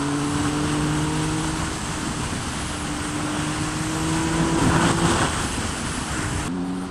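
A 2016 Triumph Speed Triple 1050 R on the move, its engine a steady loud drone with wind roar, holding a fairly constant pitch throughout with no speech.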